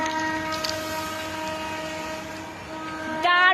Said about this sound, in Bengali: দেখো ট্রেনটা জাস্ট বেরিয়ে যাচ্ছে